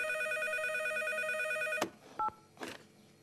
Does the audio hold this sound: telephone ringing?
yes